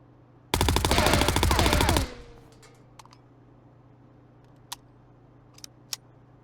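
A burst of rapid automatic gunfire from a weapon fired while aiming down sights in the shooter game Marauders, about a second and a half of dense loud shots, then quiet with a few faint clicks and taps.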